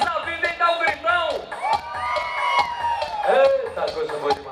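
Crowd at a horse parade cavalcade in Macaúbas, Bahia, shouting and whooping loudly in bursts, many voices cheering together up close.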